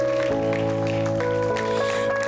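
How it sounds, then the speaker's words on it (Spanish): Church congregation applauding during an evangelical service, a steady wash of clapping over sustained keyboard or organ chords that hold throughout. "dale ese fuerte aplauso a Dios"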